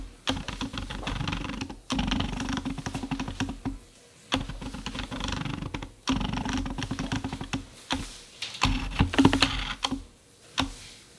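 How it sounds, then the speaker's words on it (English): Canon 50mm lens on an adapter on a Canon M6 Mark II focusing, picked up by a microphone on top of the camera: close, rapid clicky chattering bursts of the autofocus motor separated by brief pauses. "let me actually play you the sound while focusing with Canon 50mm lens with adapter on Canon M6 Mark II"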